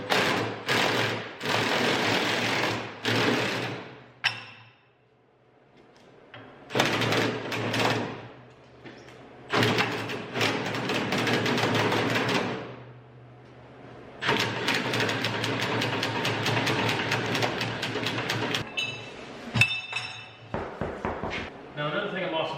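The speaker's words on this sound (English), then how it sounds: "a 14 socket with an impact gun is the fastest way to get it out" Pneumatic impact gun with a 14 mm six-point socket removing bolts on a Cummins diesel truck, firing in several loud, close rattling bursts separated by pauses.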